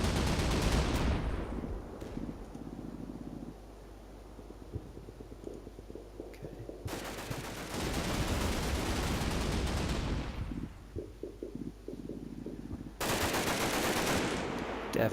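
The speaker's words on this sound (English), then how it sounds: "It's a beautiful position for that 50 cal. They're firing back though." Heavy machine gun fire from a .50 cal in the wartime game Combat Mission: Battle for Normandy, with loud sustained bursts at the start, in the middle and near the end, and quieter distant shots and rumbles between them.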